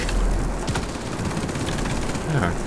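Rapid bursts from 30 mm aircraft cannons in World of Warplanes hammer away, clattering under a steady engine drone, with someone talking over the firing.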